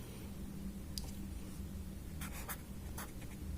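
Soft scratchy strokes of writing on a board during a class-5 maths lesson on BODMAS simplification, faint and intermittent over a steady background hum.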